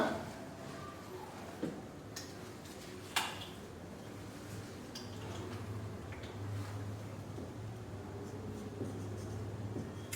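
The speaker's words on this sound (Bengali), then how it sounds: "আমি লিখে দিচ্ছি ব্যাপারটা, দেখে নাও, লিখে বুঝিয়ে দিচ্ছি ব্যাপারটা।" Pen or marker strokes on a writing surface during a chemistry lecture, soft scratching and a few sharp taps over a quiet room hum, with no talking.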